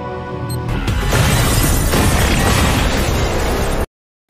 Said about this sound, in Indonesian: mereka pun tak segan-segan meledakkan ruang kendali dari sirkuit tersebut